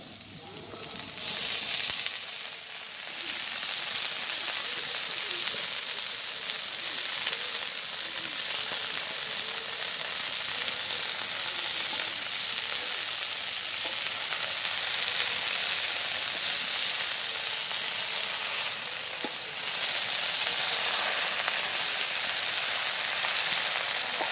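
Bottle gourd greens sizzling in hot oil with whole garlic cloves and cumin seeds, a loud, steady frying hiss that swells sharply as the greens go into the pan and holds throughout.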